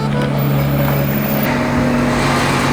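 A Porsche car's engine gives a steady, loud, close rumbling drone with a constant low hum, heard from inside the car with no voices.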